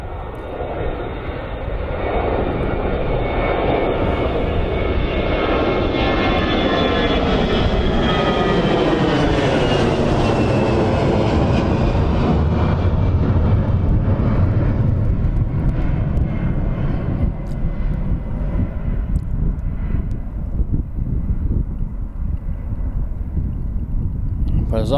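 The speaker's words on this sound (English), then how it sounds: "So he needs to get started and taxi it out." At Birmingham Airport, a nearby aircraft engine spools up from a rising whine to a loud, sustained roar, then gradually settles as the plane taxis, with a commentator speaking over it.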